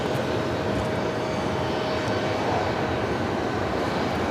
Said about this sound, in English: Etihad A380 Super now rolling down to 1-3 right.